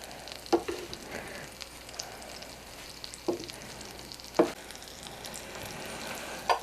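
Chicken cutlets for chicken parmesan frying in a pan, a steady close sizzle with occasional louder pops and stirring scrapes, and no talk over it.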